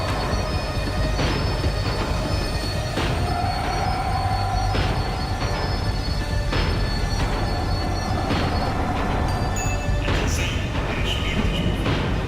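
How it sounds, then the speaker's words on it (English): Tram in the video game Max Payne 3 slowing down, a steady loud rumble of rail wheels with occasional squeals and metallic clanks throughout, no talking. "The tram was slowing down, and I'd only just gotten on board."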